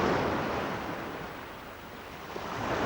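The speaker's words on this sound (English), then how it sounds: "On a windy day, the sea has waves." Sea waves churning and breaking on a windy day, a steady broadband wash of surf with wind noise, swelling slightly at the start and end, with no voices.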